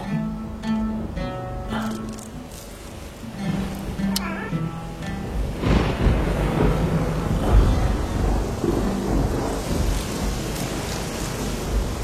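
Heavy rain pours with rumbling thunder in a dramatic story scene, loud and steady for the whole stretch, with music-like tones and a voice heard early on before the downpour swells.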